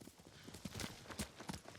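Horse hooves clip-clop at a steady walking rhythm in the Ghost of Tsushima video game, on the Iki Island DLC, the hoofbeats moderately close and fairly soft, with no voices over them.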